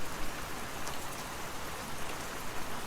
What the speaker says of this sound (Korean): 감상적인 척 저 빗소리를 즐길 수 있는 건